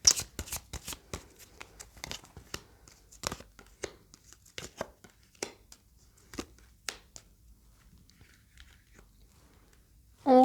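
Playing cards are shuffled and riffled in a quick cluster of crisp snaps at first, then sparser flicks and taps, close and fairly quiet, with a brief voice at the very end.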